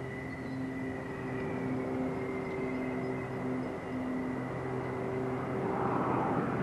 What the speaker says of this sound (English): Graceful touchdown from a graceful aeroplane.